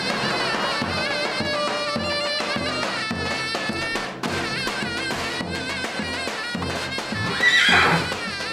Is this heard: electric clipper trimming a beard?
no